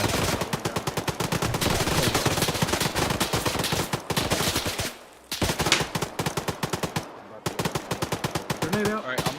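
Dense automatic gunfire from a military video game firefight, rapid bursts of machine-gun fire crackling close and loud almost without pause, with brief lulls before the shooting resumes in fast repeated volleys.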